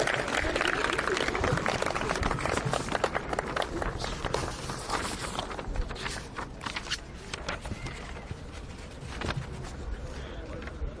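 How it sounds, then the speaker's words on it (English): Crowd applauding Heidelberg United after the women's NPL Victoria grand final, a sustained patter of many hands clapping outdoors with scattered sharper claps and some voices in the mix. "can we get one more round of applause for Heidelberg United on a fantastic season?"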